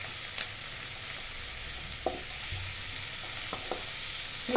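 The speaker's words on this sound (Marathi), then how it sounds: "आता त्याच्यात आपण हे जे पानं चिरून घेतले हे टाकूया, हे परतून घेऊया" Chopped kohlrabi leaves are sautéed with green chilli, garlic, onion, curry leaves and turmeric. A steady bright sizzle of oil carries throughout, with a few soft spoon scrapes and taps now and then.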